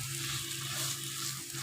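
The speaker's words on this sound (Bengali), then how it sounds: "একটা ডিম ভাজাতে দেখেন আরও বেশি যেত, 5 মিনিটের উপরে যেত" An egg fries in a hot pan with steady, close sizzling and crackling throughout, with no talk.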